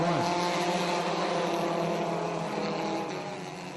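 Ministock race cars pulling away at the green flag to start a six-lap heat race on a short oval, several engines blending into a loud, steady droning roar that fades slightly near the end.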